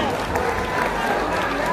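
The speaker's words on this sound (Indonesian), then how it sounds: "Tepuk tangan buat yang dari Bengkulu nih, ada di sini." An audience at a national Syawalan gathering bursts into dense, continuous applause for guests from Bengkulu, with a loud, steady wash of clapping and crowd noise mixed with voices.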